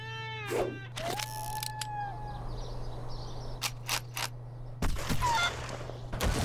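Chickens clucking and squawking in the video game Fuego!, a few short bird calls early on, then sharp bursts and thuds over a steady low hum.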